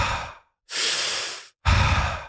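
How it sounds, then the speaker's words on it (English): Three quick, forceful breaths through the mouth, an exhale and then a long inhale and another exhale, in warrior-style breathwork. Each is loud and close, separated by short silent gaps, with no talking. "Warrior breathing is just a quick inhale and exhale through the mouth."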